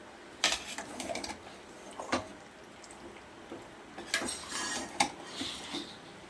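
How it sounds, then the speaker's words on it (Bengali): A spoon stirs handi chicken in a pot, giving scattered clinks and scrapes against the metal that come in irregular bursts with quiet gaps between them, close and fairly soft, with no talking. "দেওয়ার পরে এবার আমি চামচ দিয়ে একটু নেড়ে চেড়ে নেব।"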